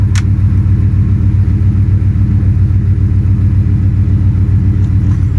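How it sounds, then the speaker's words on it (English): A car's electric power steering pump runs in a shop truck setup, a steady loud low hum and droning rumble holding constant throughout, close to the microphone with no talk. "That's my electric power steering."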